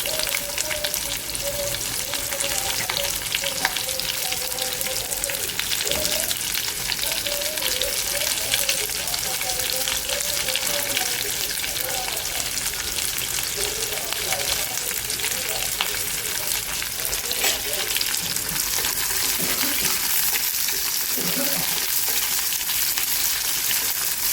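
Chopped onion dropped into hot oil with two cardamom pods and a bay leaf, sizzling and frying steadily throughout with occasional stirring scrapes, close and loud, for a spiced paneer and pea curry.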